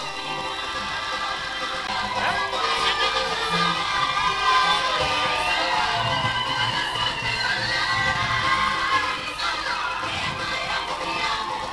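A wedding crowd at Nyaineke Church of God Seventh Day cheers and ululates as the groom is brought in, a continuous fairly loud mass of voices with high warbling trills layered over it throughout.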